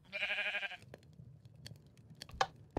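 A single bleat from a sheep in Minecraft sounds at the start, followed by faint clicks and soft game noises.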